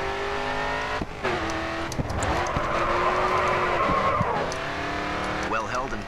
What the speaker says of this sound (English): Next corner, let's see a drift.